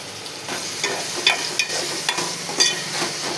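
Tomato pieces sizzle steadily in a hot pan while being stirred, with a handful of sharper scraping clicks from the spoon standing out over the continuous hiss.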